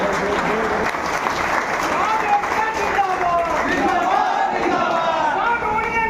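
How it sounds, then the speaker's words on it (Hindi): An audience at a district sound association meeting applauds steadily, with dense clapping mixed with crowd chatter and a voice speaking over it, holding at a constant loud level. "ताली बजाइए थोड़ा आप लोग।"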